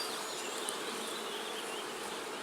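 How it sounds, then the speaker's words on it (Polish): Honeybees buzz steadily around an apiary hive in a dense, continuous drone, with occasional individual insects passing close by. "pszczoły latają, tak?"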